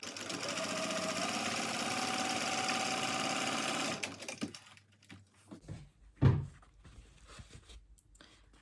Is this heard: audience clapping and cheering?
no